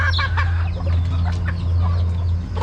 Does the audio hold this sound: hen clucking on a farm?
yes